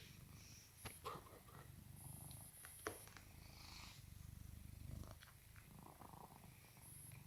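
A cat purrs softly and continuously, close but faint, with occasional small rustles and clicks around it and no speech.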